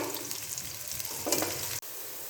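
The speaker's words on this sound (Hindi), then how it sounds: "ऑयल हमारा तकरीबन गर्म हो चुका है। अब हम इसके अंदर डाल देंगे प्याज।" Onions fry in hot oil with a loud, close, crackling sizzle and a brief stirring flurry before the sound cuts off sharply, then resumes quieter.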